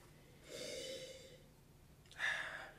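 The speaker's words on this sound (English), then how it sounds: "let's sniff this up." Two close sniffs of wine: a longer inhale, a pause, then a sharper, louder second sniff, with no talking.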